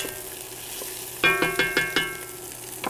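Chana masala frying in a pan: a steady low sizzle with a run of five or six sharp, evenly spaced stirring clatters near the end, close and moderately loud, no talking.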